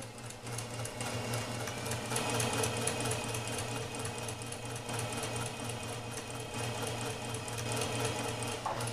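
A sewing machine chain-sews fabric pieces one after another, its steady motor hum and rapid needle chatter running continuously and close up without pause.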